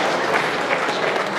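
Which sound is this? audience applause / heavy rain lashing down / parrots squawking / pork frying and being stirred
audience applause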